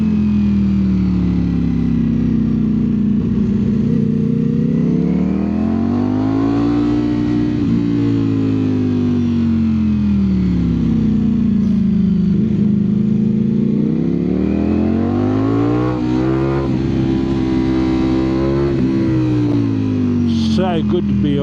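A Ducati Streetfighter V4S and a BMW 1000 RR ride mountain roads, the engine note swelling and falling in long rev sweeps through gear changes, loud and close throughout with steady rushing behind it.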